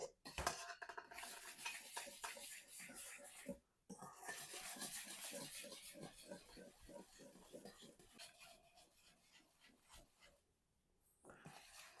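Calamansi muffin batter with all-purpose cream is stirred in a bowl, soft rhythmic scraping and sloshing strokes, fairly faint, with short pauses and a voice talking at moments.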